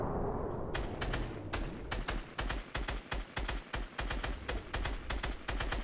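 Gunfire in Fortnite Battle Royale, a rapid run of loud sharp shots in uneven bursts that goes on almost without pause.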